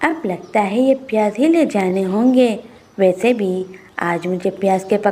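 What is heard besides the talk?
No distinct noise like a dog, phone or traffic.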